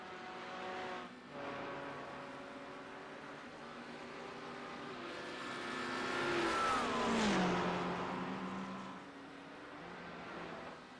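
Mercedes and Porsche Cayman GT4 race cars lapping Mount Panorama Circuit at Bathurst, engines droning and revving steadily, swelling as a car approaches and passes with a falling pitch, then settling back to a sustained race hum.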